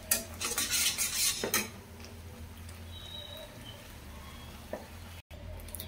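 Chicken tikka for butter chicken cooking on a slow flame: a few loud clanks of a utensil against the pan open the sound, then a soft, low sizzle continues with occasional light taps.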